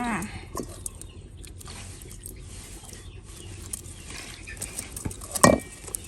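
Shrimp salad being mixed with fish sauce in a bowl, light clinks and scrapes of a utensil against the dish with irregular stirring, close, over faint outdoor background and a little voice.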